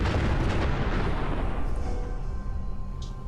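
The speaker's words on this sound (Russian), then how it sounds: "Чуть взорвалось." Explosion in Fallout 4 during a castle assault: a loud, deep rumbling blast right at the start that rolls on and slowly fades over a few seconds.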